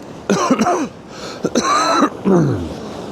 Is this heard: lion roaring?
no